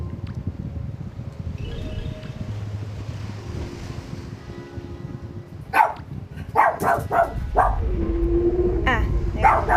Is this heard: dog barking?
yes